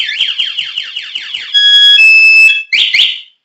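A loud Bajaj Pulsar motorcycle anti-theft alarm whoops in rapid repeating sweeps, shifts to a steady piercing multi-tone beep, then returns to sweeping bursts before cutting off.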